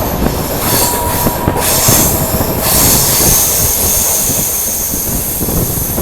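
Loud, continuous rumble of the Marathwada Sampark Kranti Express rolling through a curve, with wheels squealing and rhythmic clatter from a coach close behind the locomotive.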